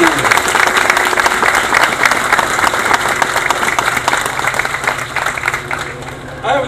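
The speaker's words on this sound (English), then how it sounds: "let's give these gentlemen a round of applause" A crowd at a Veterans Day ceremony applauds honored veterans, sustained loud clapping filling the room for several seconds with a low background hum, fading slightly near the end.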